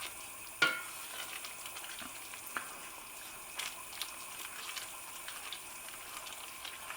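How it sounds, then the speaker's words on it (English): A pot of homemade vegetable curry with potatoes is stirred, soft scrapes and a sharp knock near the start sounding over a faint bubbling simmer. "So it's been cooking for about 20 minutes, so I'm just going to give it a good stir"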